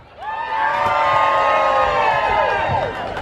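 Loud, sustained cheering and whooping from a crowd of voices rises quickly and holds for about three seconds before easing off near the end.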